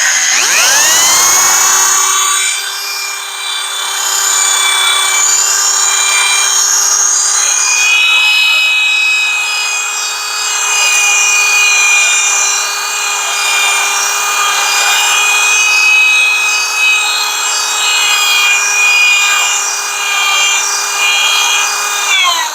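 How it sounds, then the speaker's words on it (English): Power sanding and buffing out a paint run, a loud steady whine with a sustained tone that hardly changes for the whole stretch, alone with no talking. "You sand and buff, still there."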